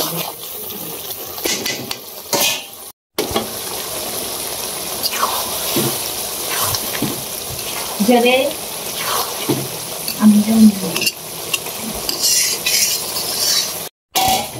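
A curry simmering in a pan just after water is added makes wet bubbling, sizzling and stirring scrapes, with people talking over the cooking throughout.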